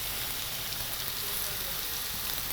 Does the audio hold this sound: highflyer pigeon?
no